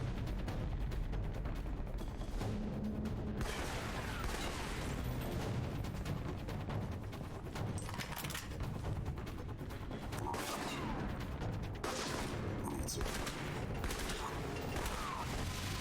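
Automated turret gunfire in Alpha Protocol, a 2010 PC action game: continuous dense volleys of rattling shots and mechanical clatter, loud and sustained throughout with brief surges of heavier bursts.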